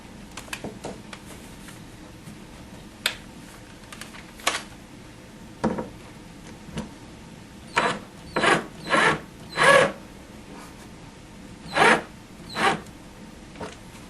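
A power drill drives screws into a monitor shelf inside a MAME arcade cabinet, heard as several short whirring bursts, mostly clustered in the second half, separated by quiet handling and rubbing noises.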